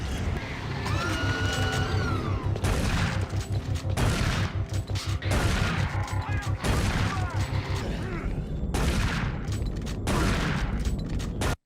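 Rapid bursts of video game gunfire ring out in a shooter, repeated volleys of sharp shots with mechanical clatter, loud and close, broken by brief pauses.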